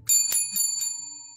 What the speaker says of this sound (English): I think I've over-banged my bell.